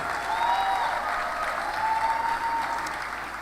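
Sustained audience applause fills the hall at a medical graduands' induction ceremony, steady clapping from a large crowd throughout.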